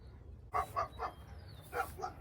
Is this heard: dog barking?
yes